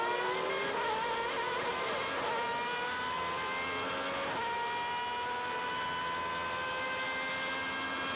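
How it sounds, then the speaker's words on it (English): A 2008 Superleague Formula race car, the Porto entry, screams at high revs at Estoril, heard onboard as a loud, steady engine whine that climbs in pitch and shifts with gear changes. "That engine sounds pretty sweet to me."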